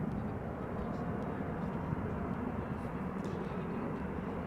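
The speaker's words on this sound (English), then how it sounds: "This is United Airlines flight 968 777-200, arriving from San Francisco" Distant, steady rumble of a United Airlines Boeing 777-200ER jet arriving at crosswind-swept Amsterdam Schiphol Airport after a flight from San Francisco, a continuous low roar with faint broadband wash and no voices.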